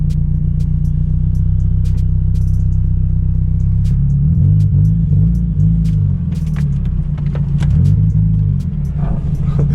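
Audi R8 engine heard from inside while driving, a loud, steady low rumble that rises and falls slightly in pitch, with no talk.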